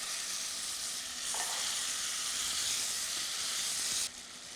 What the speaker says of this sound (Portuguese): manteiga aqui já começando a ter essa coloração mais dourada, e aí então eu vou fritar, refogar o meu damasco.